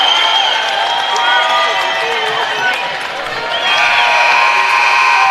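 A basketball arena crowd at an NCAA Division II regional quarterfinal roars loudly and continuously, with cheering and shouting swelling throughout and dipping only briefly midway, with talk heard amid the noise.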